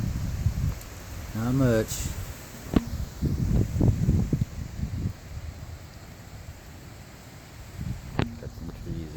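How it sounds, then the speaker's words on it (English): Hurricane Dorian's wind in Jacksonville, Florida, rushes in a broad steady roar with gusty swells and rustling, while a person speaks briefly over it and occasional knocks sound nearby. "Getting some wind."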